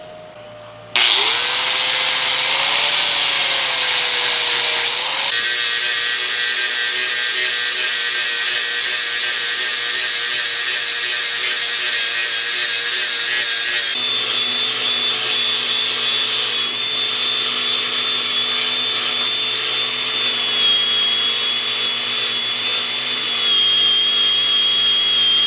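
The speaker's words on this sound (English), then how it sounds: "I'll probably move to a sandpaper disc and then try to start hitting that" Sandpaper disc on a power grinder working a cast aluminum weld, a loud continuous whining drone that starts abruptly after a second of quiet and holds steady with shifting pitch throughout.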